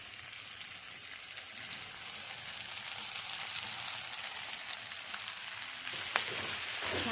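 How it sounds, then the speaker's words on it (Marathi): Cabbage, beetroot, capsicum and broccoli fry in a hot pan for a healthy noodle dish, giving a steady, close crackling sizzle with a faint stir near the end. "हे सगळं आता मी भाज्या याच्यात ॲड करते."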